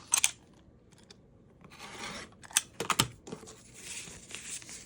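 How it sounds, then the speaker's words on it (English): Scissors trimming a freezer paper foundation piece for a quilt block, a run of crisp snips and papery crinkles in short bursts, close up with no talking. "This one's much easier to trim than the last one was."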